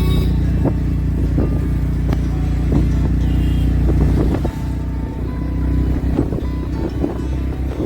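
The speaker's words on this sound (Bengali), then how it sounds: "আমরা অটোতে করে চলে এলাম ওল্ড দীঘা" Inside an auto-rickshaw heading to Old Digha, a small engine drones with a low steady rumble, punctuated by rattles and bumps, fairly close and with no talk.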